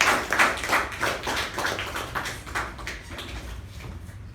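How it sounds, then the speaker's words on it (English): A Toastmasters club meeting audience gives a quiet round of applause, a faint, even patter of claps fading slightly toward the end. "Please help me welcome my mentor and guide, Toastmaster Ujwal, with a thunderous round of applause."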